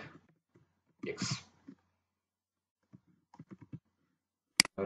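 Brief bursts of key presses on a computer keyboard while entering a short Python command, with quiet gaps between clusters of clicks and a sharper tap near the end.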